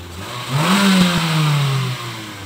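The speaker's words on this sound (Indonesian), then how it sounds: "sekarang ganjalan pedal gas saya lepas, kita mainkan RPM-nya" A Nissan Livina or Mitsubishi Xpander engine is revved from idle, climbing to a loud, close peak and then easing back down over a couple of seconds.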